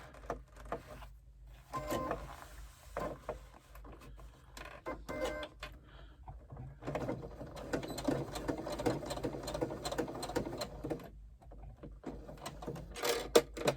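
A sewing machine stitches a box corner on a bag, with intermittent short motor bursts and clicks of fabric handling, settling into a longer, denser run of stitching toward the end.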